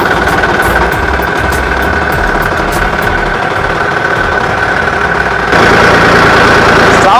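Massey Ferguson 9500 tractor fitted as a dozer, its diesel engine clattering into a loud, rough idle with steady knocking pulses, intensity stepping up near the end; no voices.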